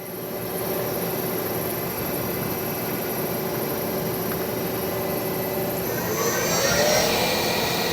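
A new 2011 Doosan Puma 2600SY multi-axis CNC turning center with a 10-inch chuck spins its spindle at 2500 RPM, giving a steady, loud mechanical whine and hum that swells slightly near the end.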